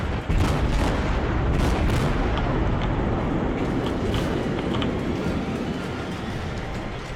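Naval gunfire in the World of Warships video game, a dense rumbling barrage of heavy booming shots rolling together loud and continuous, fading slightly toward the end.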